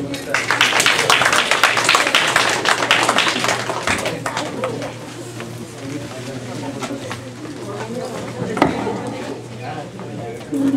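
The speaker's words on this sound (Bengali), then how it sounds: "আপনারা জোরে একটা হাততালি দেন" Loud applause from an audience honoring children reciting a collage of Rabindranath Tagore poems, dense clapping filling the first few seconds and then thinning into scattered claps beneath a speaking voice and room noise.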